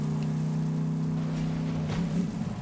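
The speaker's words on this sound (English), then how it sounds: "Engine sounds really nice." A vehicle engine in the Borderlands 3 video game hums steadily and loud, with a sustained low drone that shifts slightly near the end.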